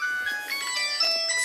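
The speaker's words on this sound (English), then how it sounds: "Excuse the phone." A phone ringing during a live safari broadcast call, a short electronic melodic ring tone, moderately loud and close, alone without talk.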